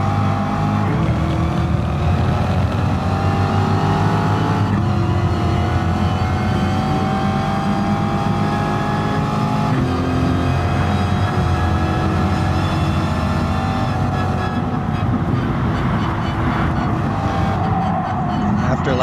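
A race car engine in Gran Turismo Sport roars in a steady, loud drone that holds high revs with slight pitch swells, continuous and close throughout.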